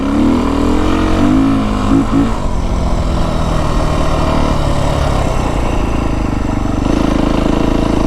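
Engine of a 2025 Beta 350 RR dirt bike fitted with an FMF slip-on exhaust, a loud, steady droning note that dips and swells briefly near the start and then holds a constant tone while riding.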